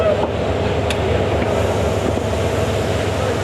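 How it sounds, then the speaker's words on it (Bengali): The Dhaka–Cox's Bazar Paryatak Express pulls away, heard from inside a carriage as a loud, steady low rumble with a faint metallic squeal and a few light clanks. "আমাদের ট্রেনটা মাত্রই ছেড়ে দিল"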